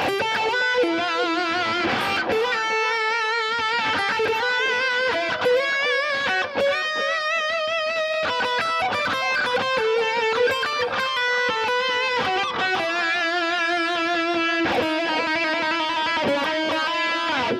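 An electric guitar played with a sweeping wah effect and bent notes, loud, sustained, and distorted, with no voices.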